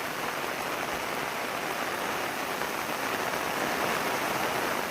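Heavy monsoon rain pours over flooded fields in rural Konkan, making a dense, even roar of drops that stays steady and fairly loud throughout, with no voices.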